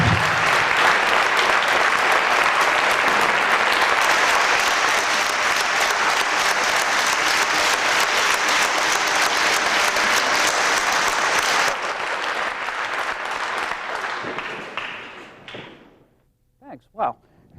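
Sustained audience applause in a lecture hall, loud and dense for about twelve seconds, then thinning and fading out with a few scattered claps and a voice at the end.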